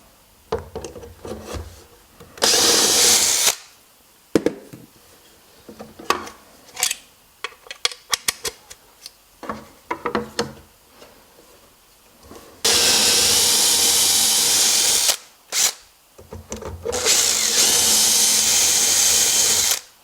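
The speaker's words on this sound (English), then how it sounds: "now all I have to do is drill the rest of the holes and just keep on going down" Bursts of a whining power drill boring into wood, alternating with clattering and scraping of tools and pieces, several long drilling runs near the end.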